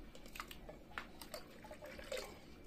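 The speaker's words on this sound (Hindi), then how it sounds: "और अब इसमें हम पानी डालेंगे।" Water is poured from a lota into thickened, cooking bathua dal in a pot, a faint splashing, trickling stream with small drips across a few seconds.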